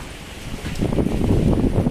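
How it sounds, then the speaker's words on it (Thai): Strong wind before a storm roars steadily against the microphone, a broad rushing noise that swells louder partway through. "ตอนนี้ลมก็แรงฝนจะตกนะคะ"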